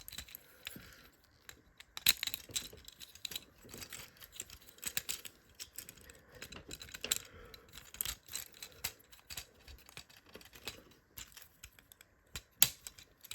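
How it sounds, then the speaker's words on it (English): Small plastic clicks and rattles from handling a Transformers Legacy deluxe-class toy as its parts are folded and locked into place, a scattered series of close, crisp snaps with a few louder clicks and no talking. "you're supposed to hear a click"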